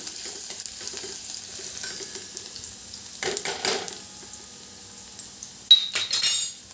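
Garlic tempering frying in oil in a pan on a lowered gas flame, a continuous soft sizzle with occasional metallic clinks and louder bursts of crackling as it is stirred.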